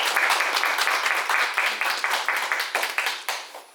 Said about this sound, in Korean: 큰 박수로 좀 맞으시죠